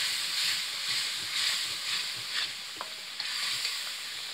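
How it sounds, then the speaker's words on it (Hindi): Garam masala and black pepper frying in a pan for a lobia dish, a steady soft sizzle with faint stirring scrapes, close and alone without any talk. "इसको अच्छे तरीके से भून लेंगे"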